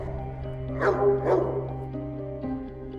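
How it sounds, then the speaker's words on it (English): A dog barks twice in quick succession at a moderate distance over a steady low hum and background tones. "Apparently, the dog barked too much."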